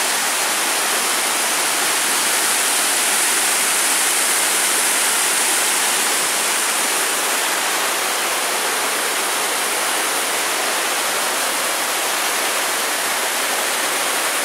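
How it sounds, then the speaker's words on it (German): Steady rushing water during monsoon season in Isaan, northeastern Thailand, a continuous broadband roar like a waterfall or fast stream, loud and unbroken throughout with no voices. "Wo geht denn das Wasser hin?"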